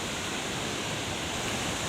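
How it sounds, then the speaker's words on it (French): A 120-metre-high waterfall in the Chiapas mountains makes a steady, dense roar of falling water, close and loud with no break, as a broad hiss that fills the whole scene. "une cascade de 120 mètres de haut"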